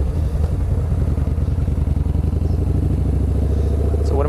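A Yamaha Bolt 950 C-Spec cruiser motorcycle's engine rumbles steadily with a fast, even low-pitched thump, close and loud throughout with no talk.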